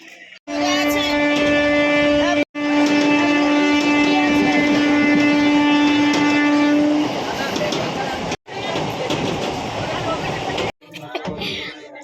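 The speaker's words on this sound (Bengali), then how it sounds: "আমরা এখন ট্রেনে বসে আছি" Steady rumble and rattle inside a moving train carriage bound for Nabadwip, with a long sustained horn tone for several seconds and voices chatting over the rolling noise.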